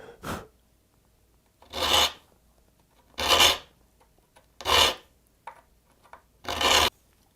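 A hand file rasps across the teeth of a dovetail saw in five separate strokes, each a bright, gritty scrape lasting about half a second, with short pauses between them and no talking.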